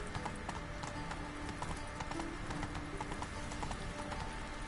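Horse hooves clip-clopping at a steady trot in the video game The Witcher 3, a continuous rhythmic patter heard faintly under background game sound and ambience.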